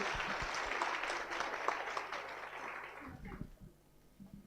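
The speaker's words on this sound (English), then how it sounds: "Help me with a round of applause. Welcome the two teams." Audience applause welcoming two debate teams at a school launch event, a dense burst of clapping that holds steady and then fades out in the last second.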